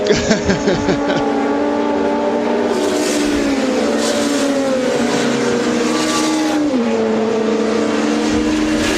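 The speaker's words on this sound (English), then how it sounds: "James Thompson's Honda is leading that queue" Touring race cars, including a Honda, race in a 2008 WTCC event at Brands Hatch, their engines a loud, sustained droning whine with shifting pitch as several cars pass close together.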